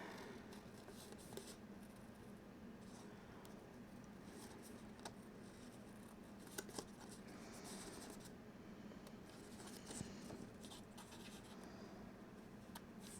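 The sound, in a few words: cutting paper with scissors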